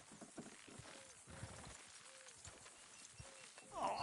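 Horses clip-clop in Red Dead Redemption 2, a soft irregular run of hoof knocks at moderate distance, with a brief louder burst at the end.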